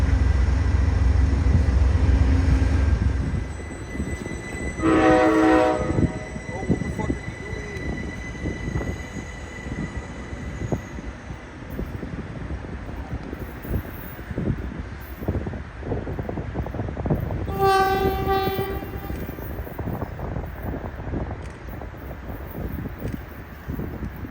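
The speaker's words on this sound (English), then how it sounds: "Tex Rail 242 arrives on Track 1 for roughly 1 minute to pick up commuters" A TEXRail 242 commuter train pulls into a station on Track 1, a low rumble and rolling wheel noise running steadily throughout, with two bursts of a bright whistle or bell-like tone standing out partway through.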